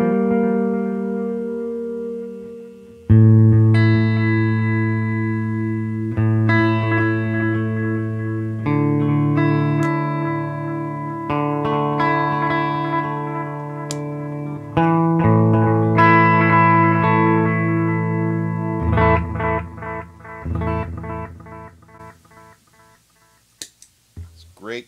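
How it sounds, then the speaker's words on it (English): Electric guitar played through a budget delay pedal with feedback and echo turned up, sustained chords and melodic lines trailing long repeating echoes that build and smear together, no talking. "Yeah, you could really crank up the feedback and echo on this."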